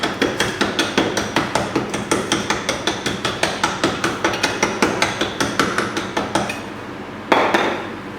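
Wooden dowel tamping large cut stars into a 4.5 inch firework shell case, a fast steady series of close knocking taps, about three per second, ending with a louder thud, no voices.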